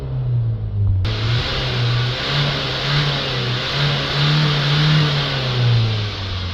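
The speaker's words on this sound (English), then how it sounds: "Give it a few revs." A Renault Trafic van engine, with a clogged particle filter, revs up from idle; a loud, close, steady low drone swells and falls in a few gentle surges, alone with no voices.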